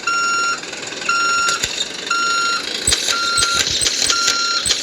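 A vehicle backs up while its reversing alarm sounds a regular series of loud, evenly spaced beeps over a low engine rumble, with a few sharp knocks toward the end.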